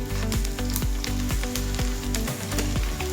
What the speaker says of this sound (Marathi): हा कांदा बघा आता पारदर्शक झालेला आहे, म्हणजे जास्त पण तळायचं नाही